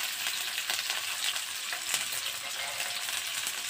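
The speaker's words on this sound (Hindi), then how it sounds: "2 बड़े साइज की प्याज है, रफली स्लाइस में चॉप कर लिया है, ये डालेंगे।" Sliced onions fry in a pan for masala dosa, a continuous close hiss and crackle of oil with a few brief pops, steady in loudness, and no voices present.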